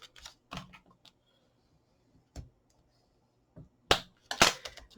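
Paper gift box flaps being folded and firmly burnished, sparse close crinkles and sharp rubbing scrapes separated by quiet gaps, ending in a brief louder cluster.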